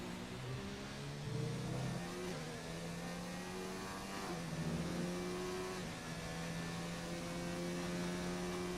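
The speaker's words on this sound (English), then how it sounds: "Encountering the back marker car of Faizan, they're diving into the pits." Formula 1 cars race in a video game at the British GP, engines droning and rising in pitch as they rev and shift, a steady loud whine with a faint hum beneath.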